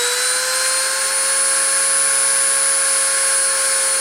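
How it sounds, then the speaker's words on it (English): Machine spindle spun up for a deposition run, a loud steady high-pitched whine with constant tonal hum, no voices. "I'm going to turn the spindle on and start the deposition."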